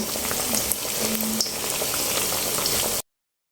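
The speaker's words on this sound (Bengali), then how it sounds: "এই যে আমার আলু চপগুলো ভাজা হয়ে গেছে তো এখানে কতগুলো ভাজতেছি" Potato chops (aloo chop) deep-fry in hot oil with a dense, steady bubbling sizzle heard up close, running unbroken for about three seconds before cutting to silence.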